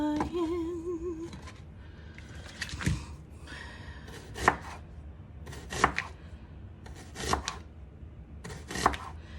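Knife thinly slicing an onion on a cutting board, with five or six crisp, evenly spaced chops sounding close and fairly quiet, after a brief tonal noise at the start and with no talk.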